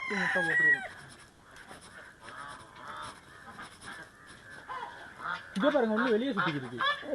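Loud honking and squawking from ducks, several birds calling in bursts near the listener, with a flurry of harsh calls at the start and end.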